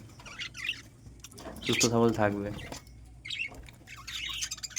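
Pet budgies in a breeding setup give a few scratchy chirps and squawks, one louder burst in the middle, while a person talks nearby.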